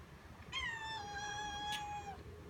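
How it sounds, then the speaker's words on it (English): A cat meows once in a long, rising-then-falling cry lasting over a second and a half, moderately near, over a steady low outdoor background hum, with no talking. "I got a cat that goes with it for free"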